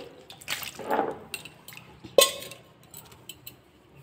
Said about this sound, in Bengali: প্রথমে শিলটা খুব ভালোভাবে ধুয়ে নিচ্ছি